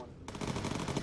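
Machine gun fire from a bomber in the Bomber Crew video game: a short, continuous, rapid stream of loud shots that starts abruptly and runs to the end.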